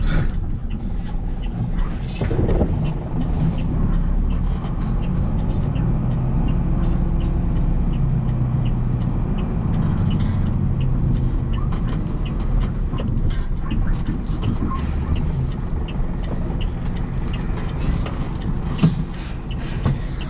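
Heavy traffic on a very busy road, a continuous rumble of passing cars, buses and trucks with the occasional hiss of air brakes, fairly loud and steady throughout.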